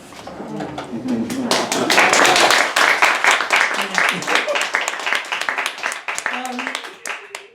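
An audience at a poetry reading applauds, dense sustained clapping that swells quickly, holds steady for several seconds and then thins out.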